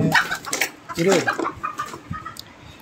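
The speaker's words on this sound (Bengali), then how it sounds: "মুরগি ঘুরছে।" A chicken clucks several times in short bursts close by, with faint background noise between the calls.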